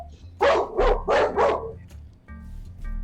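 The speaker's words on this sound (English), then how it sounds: "Hey, shut that dog." A dog barks four times in quick succession, loud and close, followed by a quieter stretch of low background hum.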